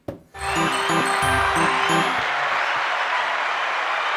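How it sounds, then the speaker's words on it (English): Studio audience applause swells in right after a brief onset, at first under a short bright musical jingle, then continuing alone as a loud, sustained, broad roar of clapping. "Would you like some applause?"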